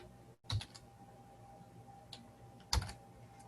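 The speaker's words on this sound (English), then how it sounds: "let's try typing it out directly" Someone types on a computer keyboard during a Red Hat infrastructure demonstration, producing a few sparse, close key clicks and one louder double tap amid a quiet room with faint electrical hum.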